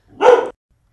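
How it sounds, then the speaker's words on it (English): A single sharp bark from an indoor dog set off by neighbours on the stairs, close and loud, with silence after. "One of my neighbours has his dog sitting at the moment, and every time they go up and down the stairs, it sets Elvis off."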